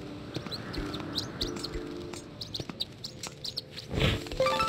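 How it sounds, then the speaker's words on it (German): Bird chirps from the video game Zelda: Skyward Sword, a series of short, bright tweets scattered over a steady background of game ambience, with a brief louder flurry near the end. "Er schleicht sich an den Vogel an."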